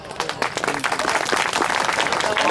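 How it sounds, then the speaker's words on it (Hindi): Crowd applause at a village gathering in Pipariya honoring Savitribai Phule's birth anniversary, a brief burst of many hands clapping that swells and holds steady, fairly close. "तालियां और जोर से बजाओ।"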